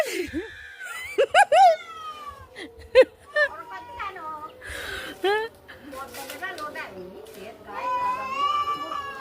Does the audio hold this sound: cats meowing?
yes